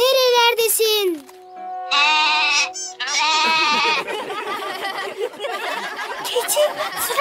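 A cartoon goat bleats in loud, wavering cries, several separate calls close together, followed by a dense stretch of overlapping bleats and animal noises with no talking.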